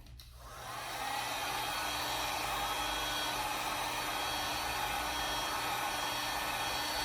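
A heat tool warms the grommet strip on a Babolat tennis racquet during repair, spinning up in the first second into a steady, close whooshing blower drone that holds evenly to the end.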